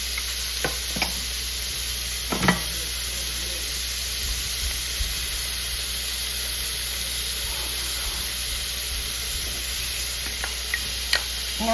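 Onions, red peppers and ham chunks sauté in a pan, giving a steady close sizzle and hiss with a few scattered stirring clicks and scrapes; no voices.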